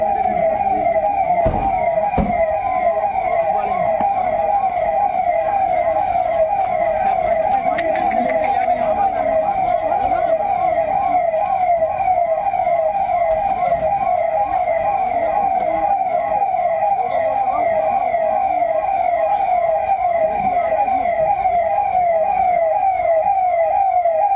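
A loud ambulance siren in Dausa, India wails continuously in a fast, rapidly warbling pattern, steady and close throughout, with brief voices and thumps early on.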